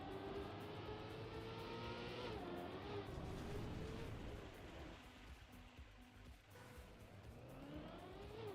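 A race car engine in the Trackmania video game drones steadily and loudly throughout, its pitch gliding up and down as the car accelerates and slides, mixed with a broad rushing noise.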